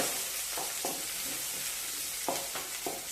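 Onion and capsicum fry in hot oil for a chicken gravy, a steady close sizzle with soft stirring scrapes of a spoon against the pan.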